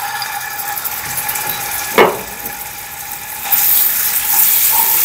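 Ground garlic sizzling in two to three tablespoons of hot oil: a steady close frying hiss with one sharp spatter partway through, swelling slightly louder toward the end.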